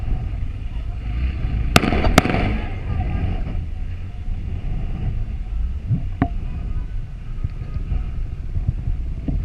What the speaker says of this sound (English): that's when the officer fires twice at the thief